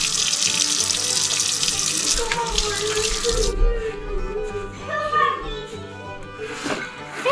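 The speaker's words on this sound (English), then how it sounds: "Now let me wash my hands real quick" Tap water runs into a sink as hands are washed, a steady broadband rush of water close by that eases off partway through, with faint household noise underneath.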